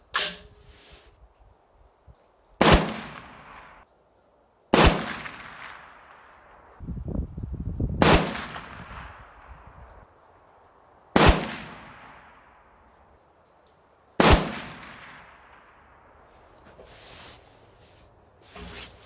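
Series of sharp, loud rifle reports from a PSA 6.5 Grendel firing reloaded ammunition at a snowy outdoor range, five shots spaced a few seconds apart, each with a crack and a long echoing decay, with faint handling noise between.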